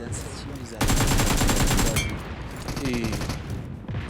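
Rapid bursts of automatic gunfire from a first-person shooter video game, loud and dense for about a second then continuing in sharper, thinner volleys, with faint game sounds underneath and no talk.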